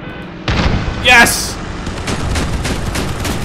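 Cannon fire from a twin-cannon vehicle in the combat game Crossout, one loud blast then a sharp crack followed by a run of rapid repeated shots and impacts, with a player shouting over it.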